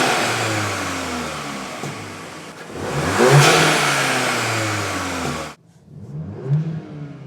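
Engine of a 2022 VW Golf R MK8 fitted with an MST Performance full intake, revving up in a rising surge that swells around the middle, then drops sharply into a quieter second rev; loud and close, no talking.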